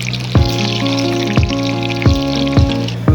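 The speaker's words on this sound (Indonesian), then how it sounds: "Goreng irisan bawang merah." Sliced shallots frying in a pan, a loud steady sizzle and crackle of hot oil, with a few sharp taps of a utensil against the pan at regular intervals over music.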